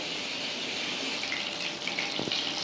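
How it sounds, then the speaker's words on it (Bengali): Eggplant pieces fry in hot oil left over from frying prawns for a Bengali potato, taro and eggplant curry, giving a steady, fairly loud sizzle and hiss throughout with no talking. "এবার আমি ওই তেলে বেগুনগুলোকে ভেজে নেব"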